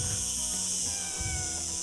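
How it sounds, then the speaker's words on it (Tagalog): A pet cat meows faintly a few times under steady broadband background noise, with some low rumbling movement nearby. "may mga alaga din pala akong pusa dito"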